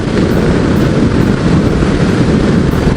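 Steady, loud broadband roar of a 2017 Harley-Davidson CVO Pro Street Breakout cruising at about 90 in sixth gear at 3,000 rpm, engine drone mixed with heavy wind rush, continuous with no talking.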